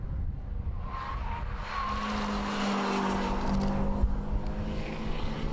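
A Lotus Exige sports car takes fast corners at full speed on the Saxon ring track, giving a steady, fairly close engine roar with rising and falling pitch and tire noise.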